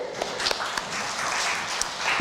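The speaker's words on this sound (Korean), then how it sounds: "주님께 영광의 박수" A church congregation at a Sunday worship service in New York breaks into a dense, steady wash of applause, continuous hand-clapping from a full room heard up close for a couple of seconds.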